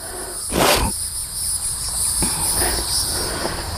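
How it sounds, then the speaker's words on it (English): Cicadas drone steadily in a shaded, well-kept cemetery under trees, a loud continuous high buzz with a brief rustling thump near the start and softer knocks later. "you've got all those cicadas going off"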